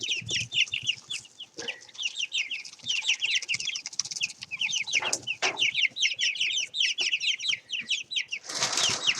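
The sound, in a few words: chickens squawking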